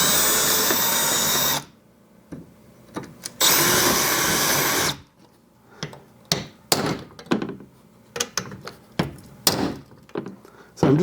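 A drill run slowly on a metal transmission cooler bracket, two loud bursts of grinding in the first five seconds, then a series of sharp knocks and clunks from handling the part, close by.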